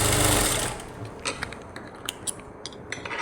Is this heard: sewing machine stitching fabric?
yes